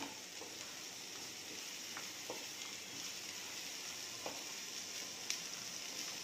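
Capsicum and other vegetables sautéing in butter for papdi pizza, a faint steady sizzle with occasional soft stirring clicks, quiet and close with no talk.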